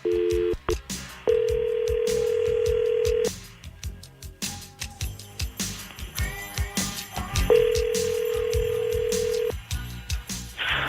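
A call being placed on a radio show: a steady electronic telephone ring tone sounds twice in long bursts, separated by a stretch of clattering studio noise and faint chatter, fairly close and clear.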